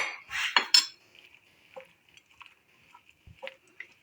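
Chicken being mixed with spices and flour by hand in a bowl, soft clinks and squishes, a few louder knocks at the start, then quiet intermittent handling sounds.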